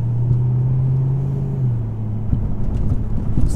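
A 2006 Mustang GT, fitted with new MSD Blaster coils and Champion 7989 spark plugs, cruises along with a steady, smooth engine drone and road rumble from inside the cabin, holding an even tone before a slight shift.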